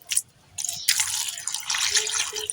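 Tap water runs and splashes into a sink while raw mango is washed in a village kitchen, a steady nearby gush after a few short drips, with no voices.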